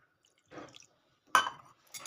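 Water is added in three short splashy bursts to a mix of Clinic Plus shampoo, baking soda and salt, each pour crisp and close against near silence.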